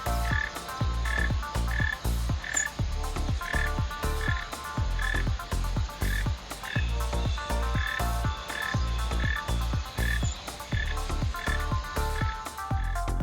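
A male mole cricket sings to attract a female: a loud, close, steady train of rhythmic pulsing chirps repeating evenly for over ten seconds with no other sounds.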